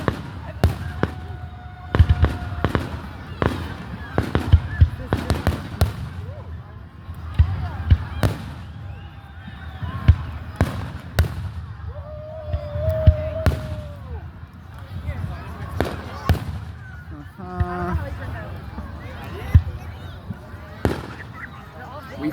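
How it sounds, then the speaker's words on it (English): A town's Canada Day fireworks show booms and crackles in irregular bursts, some close and sharp, some softer, while people chat and a few honking, whistling tones come and go. "Do a fireworks show."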